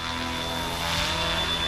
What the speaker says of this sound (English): But the helicopter itself, super impressive. I mean, look at that just floating there. Sounds so good too.